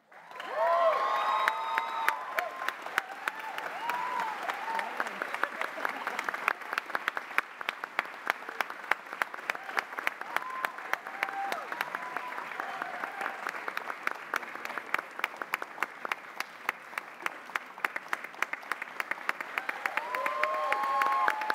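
A concert audience at a university anniversary soloists' recital applauds young musicians, including a violinist, with long, sustained, dense clapping punctuated by cheers and shouts, including children's voices, continuing at an even level throughout.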